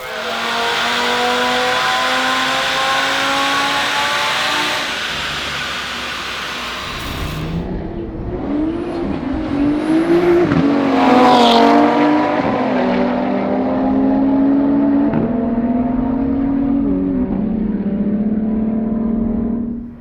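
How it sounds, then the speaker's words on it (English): G-Force TT car on a dyno, loud engine revving through rising gear pulls with shifts and sustained high revs, no talk. "Insert dyno run now."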